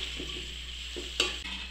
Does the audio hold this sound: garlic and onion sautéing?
yes